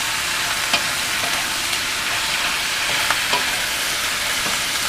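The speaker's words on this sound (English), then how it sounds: "Continue to stir your course lettuce so that it's evenly distributed" Cos lettuce with prawns stir-frying in a pan over medium-high flame, a steady loud sizzle with occasional faint clinks of a utensil turning the food.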